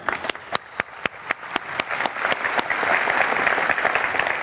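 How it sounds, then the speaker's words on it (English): Audience at a tech conference general session applauding award winners: a few sharp separate claps at first that quickly swell into steady, dense applause from a large crowd, growing louder toward the end. "One more round of applause for our award winners."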